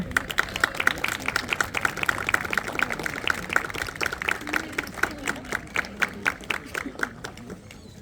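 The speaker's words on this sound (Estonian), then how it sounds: "Ja väga-väga suur aplaus meie muusikutele." An audience claps for young musicians of the Valga music school at an outdoor dance-day event, a dense, steady round of applause with crisp individual claps that gradually thins and softens toward the end.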